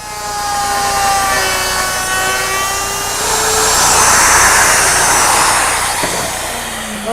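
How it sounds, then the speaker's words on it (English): A router fitted with a 5/8 inch collar and a large dovetailing bit cuts dovetail tails in wood, a loud, close, whining high-speed motor with a cutting roar that swells and then eases. "To actually cut the tails, I'm going to use my router, which is equipped with a 5/8 inch collar and this large dovetailing bit."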